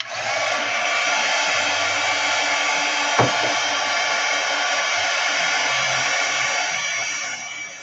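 A hair dryer blows steadily over wet gouache paint on a mixed-media collage, giving a constant, close whooshing roar with one brief click partway through before it winds down at the end.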